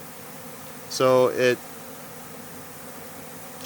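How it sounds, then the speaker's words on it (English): Honeybees buzz around a leaking sugar syrup feeder, with a short, loud, droning burst close to the microphone over a quiet hum; a single word is spoken. "the bees are landing in it because they don't know where to land"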